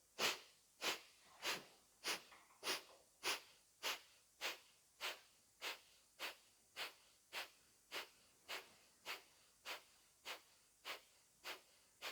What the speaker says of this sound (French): on est parti pour une petite série de respirations dynamiques